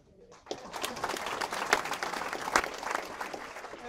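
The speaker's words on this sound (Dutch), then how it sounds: "En dan nog een applaus voor het combo." An audience at a lakeside music night in Nederweert breaks into sustained applause for a small band, a dense wash of clapping that swells after a brief quiet start and carries on steadily.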